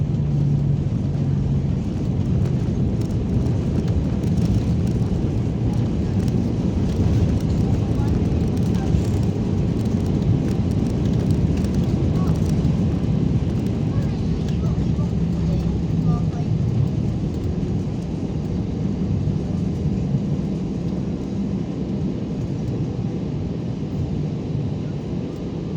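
Constant heavy rumble and roar inside the cabin of an airplane landing at Iloilo International Airport in the Philippines, loud and unbroken, with indistinct voices beneath it.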